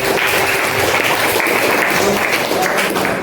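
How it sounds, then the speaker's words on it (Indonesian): Steady, dense applause from a high school history class fills the room, continuous and fairly loud throughout without clear breaks. "Tepuk tangan saya lagi."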